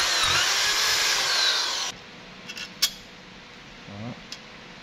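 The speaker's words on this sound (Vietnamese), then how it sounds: "Vì nhỏ inox nên là mình khoan cho chắc tay nhé." A power drill bores a 5 mm hole through a small stainless steel part of a slingshot, a loud, steady grinding whine for about two seconds that then stops, followed by a few faint clicks and taps.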